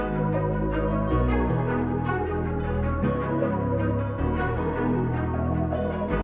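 A low, dense synth melody loops continuously, pitched down 100 semitones in FL Studio 20, its notes dragged into a murky, droning register with a thick bass layer underneath.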